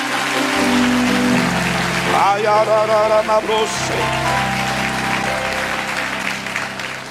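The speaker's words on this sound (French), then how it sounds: "Acclame, acclame, acclame, acclame, acclame, acclame." Church congregation applauding during a French-language sermon, with dense sustained clapping throughout, close and loud, while a voice speaks over it and other voices rise briefly in the middle.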